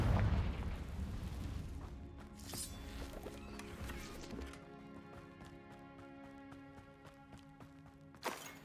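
A Confringo fire spell in Hogwarts Legacy bursts with a booming blast at the start, followed by a rumbling, crackling tail and scattered impacts, then a sharp hit near the end.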